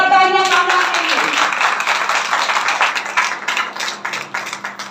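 A crowd claps in a dense, sustained round of applause at a church service, starting just after a brief voice and continuing steadily at close range.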